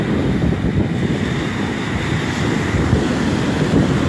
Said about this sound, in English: the sound of the waves is awesome